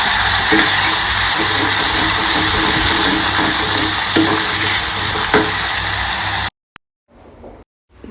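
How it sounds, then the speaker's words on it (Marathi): Masala paste frying in oil on a low flame for prawn curry, a loud, steady sizzle with faint stirring that stops abruptly near the end, leaving only a few soft clatters. "इथे आपण वाटणाचा तेलामध्ये परतवून घेतलेलं आणि वाटणाला छान असं तेल सुटलं आहे"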